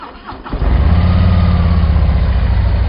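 A Harley-Davidson motorcycle engine cranks and catches after a brief starter whir, then settles into a loud, steady, close idle with a deep rumble.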